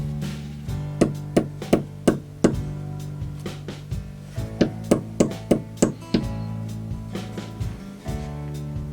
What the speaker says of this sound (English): start hammering it in carefully, because some of these wall anchors are not that durable